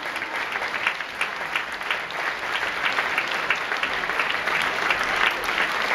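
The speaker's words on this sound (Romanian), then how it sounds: "Aplauze susținute pentru grupa de avansați." Sustained applause from the audience at a school performers' show as the advanced group is welcomed in, a continuous, even wash of clapping that swells slightly toward the end.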